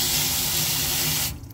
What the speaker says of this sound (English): I have been running water down here.